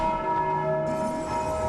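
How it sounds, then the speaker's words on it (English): A bell in Dark Souls 2 rings with a sustained, steady metallic tone that hangs loud and unbroken, with no talk over it. "Did I accidentally ring the bell?"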